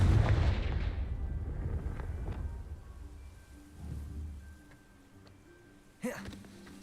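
A Confringo blasting spell going off in a wizard video game, heavy booming explosion rumbling loudly at first, then a lower rolling tail and a sharp second burst near the end, with a faint tone and game sounds underneath.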